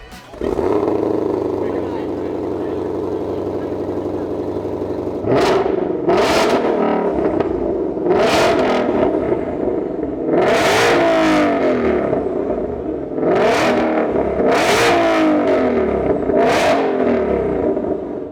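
A 2020 Shelby GT500's 700+ hp V8 fires up and settles into a deep, rumbling idle, then revs sharply about eight times, often in quick pairs, loud and close.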